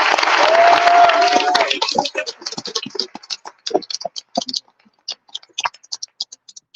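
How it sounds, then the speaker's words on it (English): Audience applause for a speaker at a panel event, loud and full at first with a voice over it, then thinning to scattered individual claps that trail off. "let's give her one more round of applause, please"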